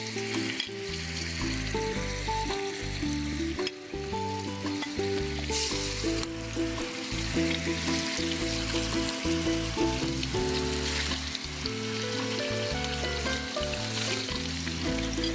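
Pieces of fish frying in hot oil in a home-style kitchen, a continuous sizzle running through the whole stretch with steady music layered on top.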